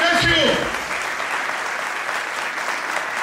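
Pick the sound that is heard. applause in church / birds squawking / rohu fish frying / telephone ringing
applause in church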